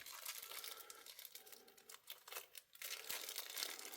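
Crinkly plastic rustling and crumpling as an Artisan Cutlery Eagle knife is pulled from its plastic bag, close and continuous with brief pauses, no talking.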